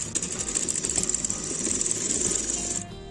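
A sewing machine stitches a fitting seam on a blouse in one continuous close run with a high whirring hum and rapid ticking, then stops abruptly near the end.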